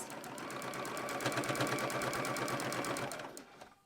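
A sewing machine stitches a purse seam around three sides, a rapid even run of mechanical clatter close up, steady throughout and then slowing and stopping at the end.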